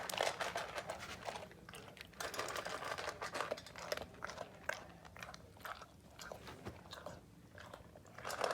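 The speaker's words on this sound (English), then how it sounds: "So there you see Dash the cat eating the dog food" A cat eating dry dog food, heard as close, steady crunching and chewing with rapid repeated bites and no talk.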